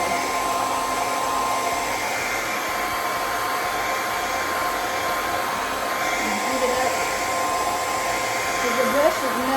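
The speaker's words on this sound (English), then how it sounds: "I know these hair dryers are pretty loud" Loud, steady whoosh of a handheld hair dryer blowing hair being styled with a metal brush, a constant close roar with slight shifts in tone as it moves, no voices.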